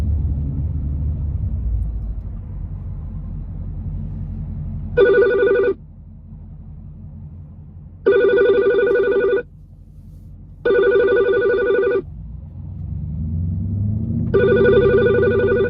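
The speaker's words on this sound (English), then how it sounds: "And I get a phone call." A telephone rings in four evenly spaced bursts of bright electronic trilling, loud and close, separated by pauses over a low rumbling background with no speech.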